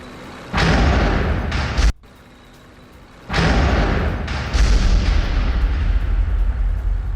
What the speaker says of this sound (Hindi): हाइमार्स से यूक्रेन का ताबड़तोड़ अटैक।